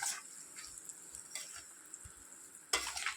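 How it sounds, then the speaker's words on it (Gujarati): A spoon stirs a spice mix for sweet-and-sour mango pickle, giving soft, irregular scraping and rustling bursts, faint and close, with no talking. "એને આ રીતે હવે હલાવી લઈશું. હલાવી અને પાછો થોડી વાર માટે આપણે ઢાંકી દઈશું."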